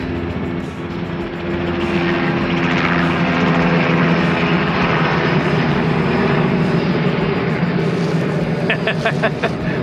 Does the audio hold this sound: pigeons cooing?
no